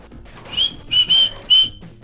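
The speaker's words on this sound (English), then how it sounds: "I don't know why I'm whistling" Someone whistles a short, bright tune of four clear notes, close and fairly loud, over a faint background murmur of game sound.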